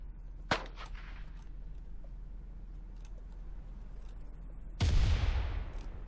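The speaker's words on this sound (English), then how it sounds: "Who's shooting at who, though?" Gunfire rings out in the Cuisine Royale battle game: a sharp shot early, then a louder booming blast near the end that trails off, set against a steady low background rumble with no talking.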